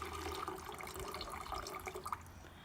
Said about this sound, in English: I'm going to pour it into the bottom of this 2-liter bottle